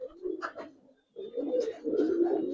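Giribaz aluminium silver coloured pigeons coo in a loft, soft and close, in several throaty bursts broken by a brief pause.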